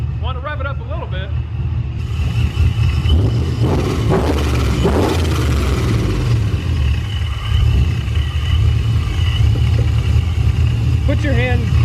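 A supercharged GMC truck engine revving in a garage, a loud low rumbling idle that swells in a few throttle blips; a voice talks briefly over it at the start and near the end.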